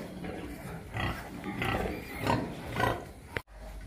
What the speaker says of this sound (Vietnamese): Heo mình nãy giờ nó đẻ nhanh quá các bạn ơi.